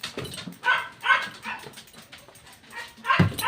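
A dog barks and yips in several short bursts, close by, with brief pauses between them.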